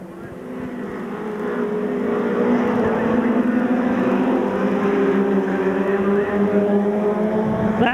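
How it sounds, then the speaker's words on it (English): A BriSCA F2 stock car misfiring during a race, its engine roaring in an uneven drone with other cars close behind, growing louder through the stretch. "His car sounds as if it's beginning to misfire as Kelly moves in for the kill on Patterson"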